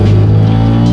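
Loud interior drone inside a moving BMW: a steady, heavy low engine hum with constant road noise, close and unbroken for the whole second.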